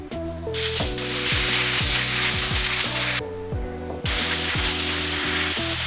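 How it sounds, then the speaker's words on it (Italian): Loud, steady hiss of compressed air spraying up close, broken by two brief pauses, over a low mechanical whir. "proveremo a spruzzare dentro negli ugelli un po' di aria compressa"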